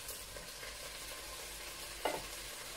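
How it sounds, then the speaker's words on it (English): Vegan pasta sauce is stirred in a pot over high heat, with a constant soft sizzle and one brief scrape of the spoon partway through. No one talks. "Okay, so just gonna continue to stir"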